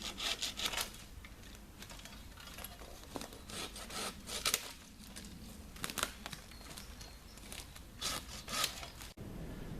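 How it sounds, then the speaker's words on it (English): A hand saw cuts lower branches off Douglas fir trees while pruning in the woods, rapid rasping strokes in irregular bursts nearby for about ten seconds. "that was a little short clip from when I was pruning some of the Douglas down in the woods"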